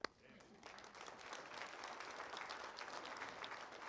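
An audience breaks into applause at a talk, starting with a sharp clap and swelling into steady, dense clapping from many hands that continues unbroken, moderately loud.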